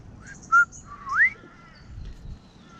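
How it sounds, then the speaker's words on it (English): A grey shrike thrush at a wetland gives two clear whistled notes, one short and one rising and sliding, loud and close against quiet background ambience. "Grey shrike thrush."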